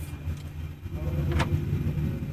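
Boeing 737-NG engines in a flight simulator, stopped on the ground after a night landing at Kai Tak Airport in Hong Kong, give a steady low rumbling hum with one brief hiss partway through.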